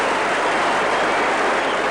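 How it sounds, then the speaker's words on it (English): A large cricket crowd applauds a catch steadily, the clapping dense and continuous throughout, with no talk on top. "Even Kelly Turan is applauding the catch."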